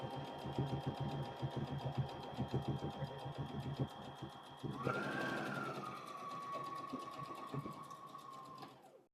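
Sewing machine stitching fabric for a handmade wallet, finishing a seam with backstitching: a steady, fast mechanical whirring and rattling that runs continuously, then a higher whine as the stitching reverses near the end.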